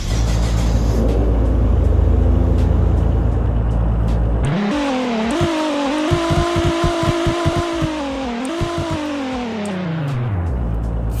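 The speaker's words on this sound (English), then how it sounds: "show us the new sound for the 2009 GTR" 2009 Nissan GT-R engine in the Roblox game Greenville, a loud close revving run: rising and falling engine tones with gear-shift steps and rapid pulsing, after a few seconds of steady rumble, no talk.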